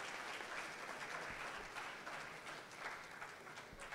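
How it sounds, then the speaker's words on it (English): Steady, dense applause from a university event audience welcoming a petroleum engineering panelist, sustained and even throughout, heard from a distance at low level with no talk over it. "Let's give him a round of applause."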